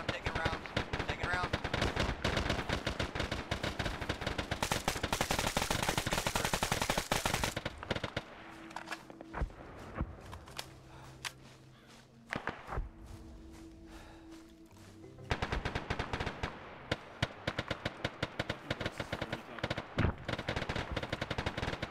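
Heavy incoming gunfire in Arma 3 during a Russia-versus-Ukraine ground battle, with dense automatic bursts that drop away for several seconds before loud sustained firing resumes, mixed with intermittent voices.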